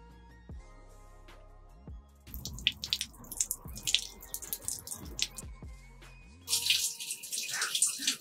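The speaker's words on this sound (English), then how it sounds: "the water goes into the drain just along this way" Shower water running into the drain inside a van used as a full-time home: faint drips at first, then splashing, gurgling water that starts abruptly, close by and steady, growing louder near the end.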